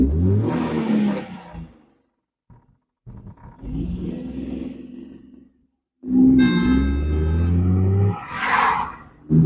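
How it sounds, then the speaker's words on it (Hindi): A 2014 Hyundai Eon revs and accelerates on a trial drive after a repair for low pickup and misfiring cylinders, its engine note rising in strong, loud bursts with short quiet gaps between them. "तो गाड़ी को बढ़ाते हैं"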